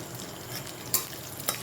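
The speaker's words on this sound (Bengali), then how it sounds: "দিয়ে দিলাম কাঁচা লঙ্কা এবং গোটা একটা শুকনো লঙ্কা ফোড়ন।" Green chilli and a whole dried red chilli sizzle in hot oil, a steady close frying hiss with a couple of sharper pops.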